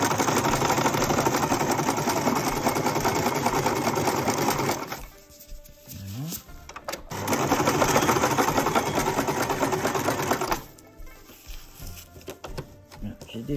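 Sewing machine stitching hair wefts with thread matching the hair colour, running in two long steady whirring bursts separated by a quieter pause, close and loud.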